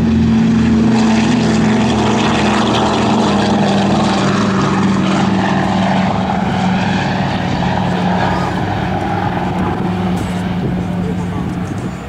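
A Douglas C-47 Skytrain named "Yankee Doodle Dandy" runs its propeller engines at a World War II weekend event, a loud steady droning roar with a low throbbing hum held throughout, close by, with voices faintly underneath.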